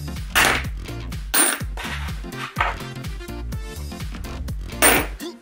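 Coins drop into the slot of a plastic LOL Surprise Biggie Pets toy, loud and close, several sharp metallic clinks and rattles spaced about a second apart, with no talk over them.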